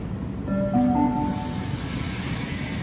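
Train arriving at a Sydney Central station platform, rumbling in with brief squealing wheel tones, then a steady hiss and rolling noise as it settles.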